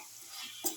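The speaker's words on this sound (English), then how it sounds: "Keep on sauteing for 10 to 15 minutes." Okra pieces sauté in a pan with a faint, soft sizzle, and a couple of brief stirring scrapes come near the end.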